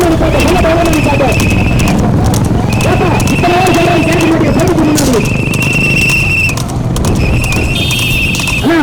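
Rapid hoofbeats of a horse race in Coimbatore drum steadily under an excited commentator's voice, with a high whinny-like tone cutting in at intervals; loud and crowded.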